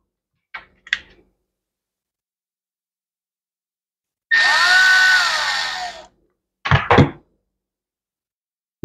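Screw gun driving screws into a chainsaw carburetor, a single whirring run of about two seconds framed by short clicks and knocks of handling, with quiet gaps between.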